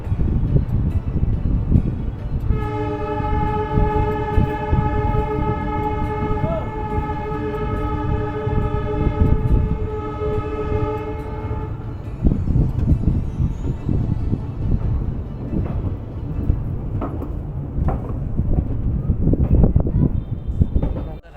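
A Superfast Intercity Magh Mela special train pulls out of Raebareli station, its horn sounding in a long steady blast for several seconds over continuous rumbling wheels and carriage noise that carries on after the horn stops.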